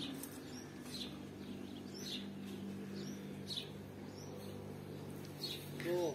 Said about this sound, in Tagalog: Yung huni ng ibon